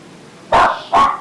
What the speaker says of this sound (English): Stop barking.